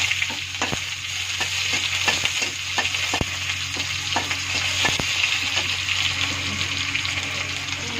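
Chopped onion, curry leaves and green chillies fry in hot oil, giving a continuous close sizzle broken by occasional sharp clicks of stirring, with no voices.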